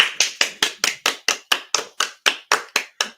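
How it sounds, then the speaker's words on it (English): A single pair of hands claps steadily about fourteen times at an even rhythm, close and crisp, celebrating a son who got his own apartment; no voices. "Clap for him."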